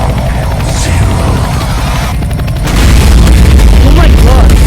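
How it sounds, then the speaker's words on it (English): A huge map-wide explosion in Roblox Car Crushers 2 booms loudly, a sustained heavy rumble that swells and stays overwhelming, with faint voices underneath. "Bro, the explosion broke my sound barrier."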